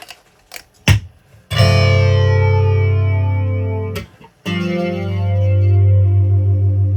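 A guitar runs through a 1980 MXR Flanger MX-117 pedal after a repair of its frozen LFO. A few picked notes are followed by two long ringing chords with a sweeping, whooshing flange that swells and pulses.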